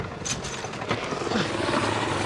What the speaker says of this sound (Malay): Helikopter polis beredar di kawasan ini.